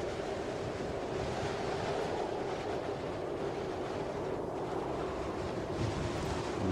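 Steady, roaring wind in the video game Kholat, a broad constant whoosh that holds without pause from start to finish.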